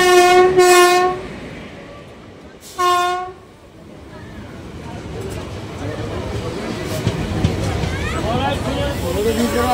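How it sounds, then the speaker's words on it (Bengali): An Azimganj–Krishnanagar local train passes near Plassey, sounding two loud horn blasts and then rumbling past close by with a swelling roar and clatter of wheels. "এইটি হলো সেই ট্রেন যেটি আপনার আজিমগঞ্জ থেকে ছেড়ে আসে।"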